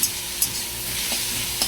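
Onions sizzle steadily in a pan as they fry, with a constant bright crackle and a few quick scraping stirs of a utensil punctuating it, close and clear with no talking.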